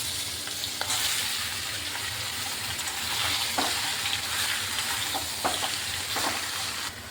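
Raw jackfruit pieces go into a pan of fried fenugreek seeds and sizzle loudly and steadily, with a dense frying hiss and a few clattering stirs throughout and no talking.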